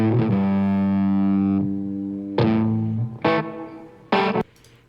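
Fender American Ultra Luxe Vintage Stratocaster electric guitar played through an amp pushed into drive, ringing out a sustained clear chord, then three shorter struck chords with gaps between, bright and loud with no talking.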